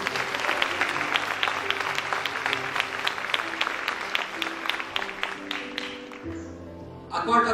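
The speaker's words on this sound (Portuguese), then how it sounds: "E dá um aplauso ao Senhor Jesus." Congregation applauding during a Portuguese-language evangelical church service, steady dense clapping filling the room for several seconds with music beneath, then tapering off near the end.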